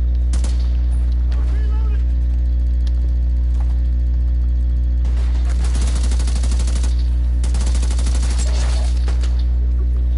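Bursts of rapid gunfire aimed at the player in The Division 2, sharp cracks and rattling volleys in several clusters, loud over a steady low droning hum.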